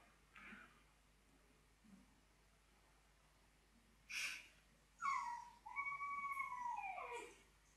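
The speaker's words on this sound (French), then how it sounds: "Mais mon chien fait des bruits très mignons." A pet dog gives a few soft, high whimpers and yips, with brief faint cries early on and a longer run of wavering whines near the end, all fairly quiet.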